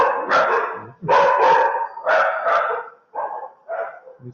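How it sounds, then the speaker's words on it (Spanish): Several pet dogs bark loudly and close by in a home, a burst of overlapping yaps and barks in quick clusters with brief pauses, no speech over them. "Mis perros se alocan."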